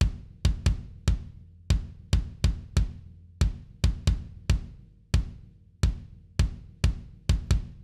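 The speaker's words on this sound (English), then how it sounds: "I printed out this kick drum here that I used" Unprocessed acoustic kick drum printed from Superior Drummer 3 for an industrial rock song, hitting alone in a steady pattern of about twenty dry, punchy thumps with short decays and no talk.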